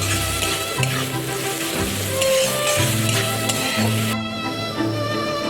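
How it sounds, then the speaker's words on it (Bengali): Onions fry with a steady loud sizzle while being stirred in a pan, continuous crackling throughout with occasional scraping of the spoon. "পেঁয়াজটা লাল লাল করে ভাজা হয়ে গেছে।"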